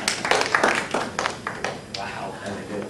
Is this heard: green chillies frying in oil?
no